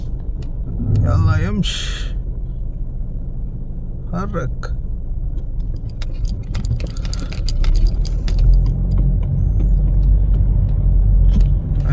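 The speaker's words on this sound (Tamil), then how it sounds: "செம்ம டிராஃபிக் மக்களே." Heavy road traffic in Kuwait, a loud low rumble of car and engine noise that swells toward the end, with people talking over it.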